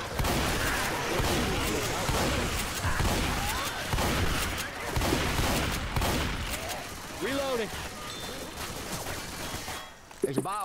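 Rapid bursts of gunfire from a shooting video game rattle almost continuously, with overlapping shots forming dense volleys beneath excited voices talking over the action.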